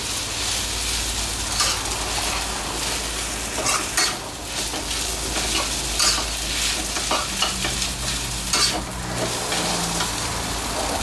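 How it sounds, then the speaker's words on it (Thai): Dry sukiyaki with glass noodles stir-fries in a hot pan, giving a loud, continuous sizzle with frequent scraping and clattering of the utensil against the pan, close up and without talking. "ใส่วุ้นเส้นลงไปนะ วุ้นเส้นอย่างดีนะครับ ก็ผัดทุกอย่างให้เข้ากัน"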